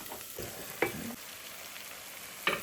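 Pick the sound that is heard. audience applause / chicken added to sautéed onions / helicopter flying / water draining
chicken added to sautéed onions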